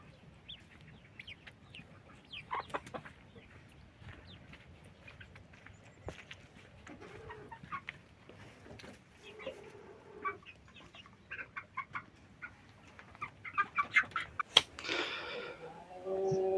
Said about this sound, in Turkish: Şimdi büyük anaç Tavuklarımızı salacağız.